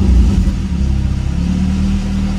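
A low-mileage Ford Fiesta ST150 with no catalytic converter fired up from close by, its engine giving a heavy, loud rumble that pulses and settles into a throbbing idle.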